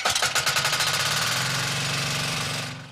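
A second engine on an armored vehicle cranks and fires up, opening with a rapid knocking rhythm that settles into a loud, steady diesel rumble close by before cutting off near the end; no speech.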